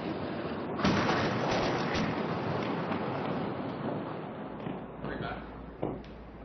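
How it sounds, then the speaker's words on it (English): Artillery shells landing in Gaza at night, rumbling as a continuous, dense roar with heavier thuds near the start and end, heard amid background noise. "we are hearing artillery shells constantly landing in Gaza tonight"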